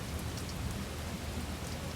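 Steady, dense rainfall from the video game Strade, a constant hiss of drops pattering on surfaces with a low rumble underneath and no voices.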